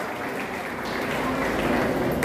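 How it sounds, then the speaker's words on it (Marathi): Audience applause at a lecture series closing ceremony, a steady dense wash of clapping that holds even and grows slightly louder toward the end. "त्यांच्यासाठी आपण जोरदार टाळ्या वाजवून त्यांचंही मनापासून अभिनंदन करूया."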